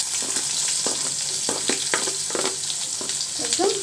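Chopped onions hit hot oil in a pan already holding whole garlic cloves, frying with a steady close sizzle broken by sharp crackles and occasional stirring scrapes throughout.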